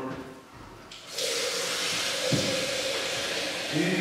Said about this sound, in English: Now, top it up to 20 litres of cold water.